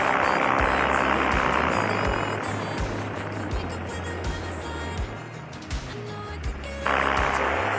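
A paramotor engine idles in flight, a continuous droning hum with a low rhythmic pulse blended with rushing wind noise. The drone holds steady throughout and grows slightly louder near the end.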